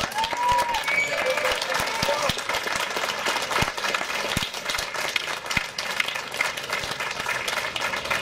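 A large audience of about ten thousand applauds continuously, a dense wash of clapping filling the whole stretch, with a voice speaking over it.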